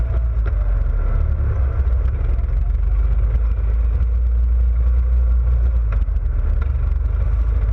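ATV engines rumbling through a state forest, a loud continuous low drone with steady engine roar and faint clatter, close and unbroken.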